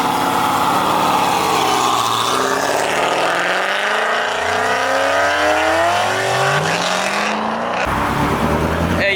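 A modified C6 Corvette at a car show revs hard and loud, its engine pitch sweeping up and down through repeated throttle blips before cutting off sharply near the end.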